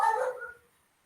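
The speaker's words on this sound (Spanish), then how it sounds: "disculpen a mi perrita que anda ladrando" A small female dog gives one short bark indoors, a single sharp yelp that fades quickly into quiet.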